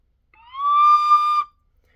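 A single sustained recorder note blown for about a second, clear and steady with a soft start and abrupt stop, alone in silence.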